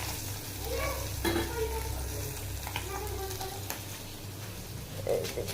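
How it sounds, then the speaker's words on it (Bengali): Onions frying in a pan beside fish, cooked until slightly charred, give a steady close sizzle with a few scraping stirs over a low background hum. Faint speech-like murmurs come and go. "মাছ ভাজির সাথে আজকে একটু পেঁয়াজ ভাজি হবে"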